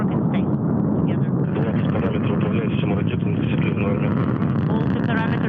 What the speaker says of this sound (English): Engine maximum thrust and liftoff.